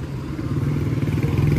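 Motorcycle engines rumble steadily on a bazaar street in Afghanistan, a close, continuous low drone with faint clatter that grows slightly louder over the short stretch.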